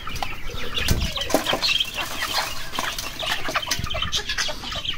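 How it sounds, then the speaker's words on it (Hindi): Chickens flap, scratch and peck at scattered feed close by, a busy rustle of wings and clucking that runs steadily throughout with no talk. "एक मुर्गी वहाँ के से उड़ के आई और उसने सीधा झपट्टा मारा इस पर"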